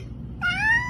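A cat lets out a single short, clear meow, close up and fairly loud, after a brief quiet moment.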